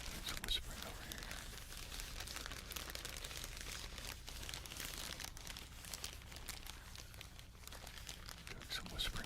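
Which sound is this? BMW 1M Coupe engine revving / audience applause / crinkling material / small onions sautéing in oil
crinkling material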